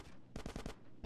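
Gunfire from the video game GTA San Andreas during a gang shootout, a short rapid burst of four or five loud, close shots in a row over game background noise.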